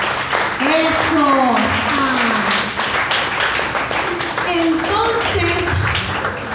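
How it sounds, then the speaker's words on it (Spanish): A church congregation applauds in a dense, steady wave of clapping that lasts throughout, with voices and a speaker audible underneath. "Dale un fuerte aplauso al Espíritu de Dios."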